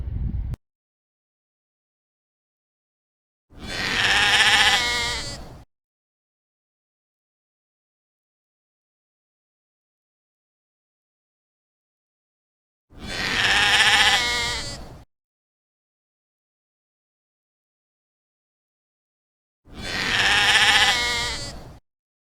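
Sheep herded by a cowboy in the Kyrgyz highlands near Barskoon bleat three times, each cry about two seconds long with long quiet gaps between, fairly close and clear with no other sound.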